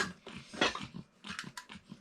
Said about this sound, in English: Cute little puppy.